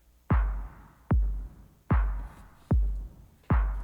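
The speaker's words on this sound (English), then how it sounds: "what I did is I added a ton of low end to the kick right here" Electronic kick drum with heavily boosted low end, high end removed and reverb added: five deep, booming thumps at a steady, slightly uneven pace, each with a soft tail, alone and close.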